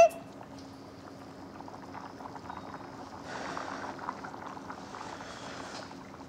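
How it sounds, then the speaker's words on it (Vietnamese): A pot of chicken with red dates bubbling at a vigorous boil in a home kitchen, a steady low simmering hiss with a faint hum, growing slightly busier partway through. "cái nồi gà nó đang sôi sùng sục"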